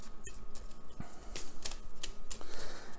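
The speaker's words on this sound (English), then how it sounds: "You're going to shuffle those up" Playing cards numbered 2 to 13 being shuffled by hand, a quick run of soft papery taps and riffling clicks, close and fairly quiet, with no voices.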